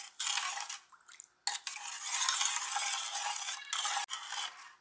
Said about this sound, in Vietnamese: Mình trộn đều nó lên